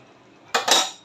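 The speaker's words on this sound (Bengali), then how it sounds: "এখন মাংসটা নাড়াচাড়া দিয়ে দিব।" A spoon scrapes and clinks against a pot while stirring a chicken curry with potatoes, two quick metallic strokes close up after a brief quiet moment.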